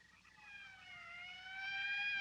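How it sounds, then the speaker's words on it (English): A wailing siren from a morgue wagon in a 1959 film rises and slides in pitch, faint at first and then louder as it seems to draw nearer, with no one talking. "That's the 5th siren in the last hour."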